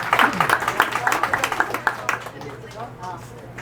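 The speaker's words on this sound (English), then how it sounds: "we'll take the applause." Audience applause at a fireside chat event, close and lively clapping that thins out after a couple of seconds, with murmuring and a voice mixed in.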